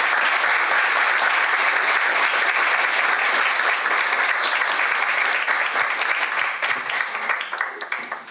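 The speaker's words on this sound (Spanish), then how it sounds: "Por favor, únanse a mí dedicándole un aplauso para darle la bienvenida." A conference audience at a Latin American glotopolitics congress applauds to welcome a speaker at an opening plenary, with dense, continuous clapping that holds steady and then tapers off toward the end.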